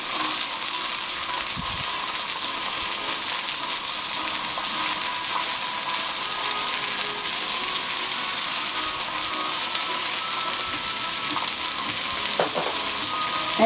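A fish steak sizzles in lemon butter with garlic, thyme and green onion, a loud, dense, continuous frying hiss that stays even throughout with only faint clicks underneath.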